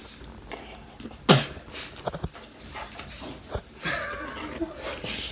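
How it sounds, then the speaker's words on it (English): Several dogs pant and whimper nearby in short, uneven bursts, with scuffling and shifting noises between them and a faint voice in the background. "Yeah, we got a lot of dogs."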